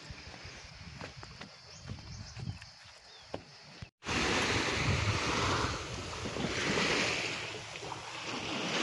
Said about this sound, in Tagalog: Kalma ang dagat mga ka-baby loves.